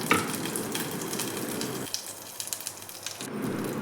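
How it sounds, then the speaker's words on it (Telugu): Dry fruits frying in a spoonful of ghee in a pan on the stove, giving a steady close sizzle and crackle throughout with occasional stirring clinks, no voices. "స్టవ్ మీద గిన్నె పెట్టి ఒక చెంచా నెయ్యి వేసి డ్రై ఫ్రూట్స్ని బాగా వేయించాలి"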